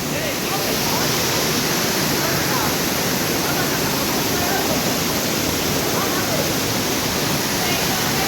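Tada (Ubbalamadugu) waterfall thundering steadily at close range, a dense, loud, unbroken roar of falling water filling the whole stretch, with faint voices of visitors mixed in.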